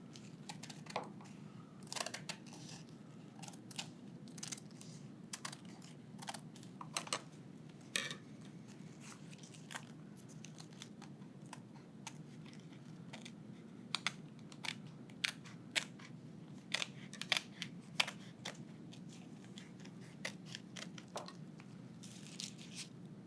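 Kitchen scissors snipping food into narrow strips for SpongeBob-themed sandwiches, a steady series of short, crisp close-up cuts over a low hum, with no talking.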